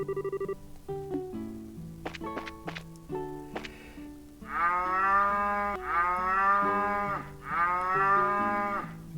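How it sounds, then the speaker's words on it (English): A cow in the video game Trails in the Sky moos in three long, loud, drawn-out calls after a stretch of brief tonal game sounds, with no talk. "that is one happy cow"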